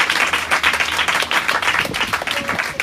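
Congregation applauding at an Urdu-language church sermon service, dense continuous clapping from many hands filling the room for about three seconds, steady and fairly loud with some murmur underneath.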